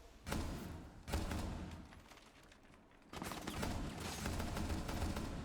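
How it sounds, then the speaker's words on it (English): Gunfire in a competitive shooter match, several sharp bursts of shots at close range with rapid follow-up fire, the loudest volleys near the start and a denser stretch of shooting toward the end. "Shots go out."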